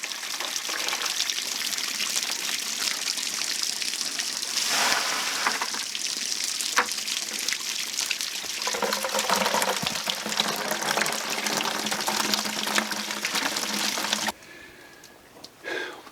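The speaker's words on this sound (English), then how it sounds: "a place that doesn't care if you drain 10 gallons of water out of the ground" Water draining from a full-time toy hauler RV's tank onto the ground, a steady splashing gush that keeps up for about fourteen seconds, then cuts off abruptly, leaving a quiet trickle and faint handling noise.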